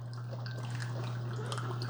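Water streams steadily from an Instant Pot 2-in-1 K-Cup coffee maker into a cup, a continuous close trickle and splash over a constant low machine hum.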